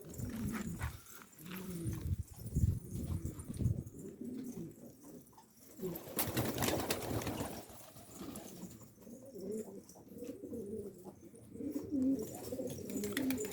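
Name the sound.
Istanbul breed pigeons cooing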